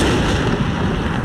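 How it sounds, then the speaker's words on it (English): Tank cannon fire in Men of War: Assault Squad 2 comes as a dense, loud, rumbling blast that fills the short moment without a break. "Okay, we turn. Open fire!"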